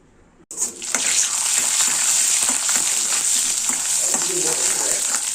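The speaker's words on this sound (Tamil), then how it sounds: "நெய் சேர்த்துட்டு கடுகு, கடலைப்பருப்பை ஃபஸ்ட்டு தாளிச்சிக்கலாம்" Mustard seeds and chana dal hit hot oil and ghee after a moment of near silence, bursting into a loud, steady sizzle with faint crackles and stirring close by.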